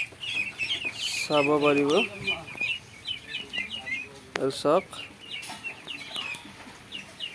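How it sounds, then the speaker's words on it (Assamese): Twenty-five-day-old ducklings peep and call in quick, high chirps while feeding, with a couple of louder harmonic cries breaking through; a person speaks briefly nearby. "হাঁহবোৰ কি সুন্দৰকৈ খাই আছে, ঘূৰি আছে, ফুৰি আছে"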